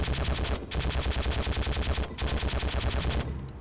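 Sustained automatic gunfire in the video game Conflict Desert Storm, aimed at a SCUD launcher: loud, rapid bursts of shots in quick rhythm with two brief pauses, close and unbroken by talk.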